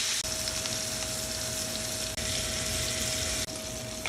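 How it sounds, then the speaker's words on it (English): Pork roast searing in a pan: a steady, loud sizzle runs continuously, broken by two brief dips, with a faint constant tone underneath and no voices. "I'm going to sear this pork roast off on all sides, starting with the fat side down"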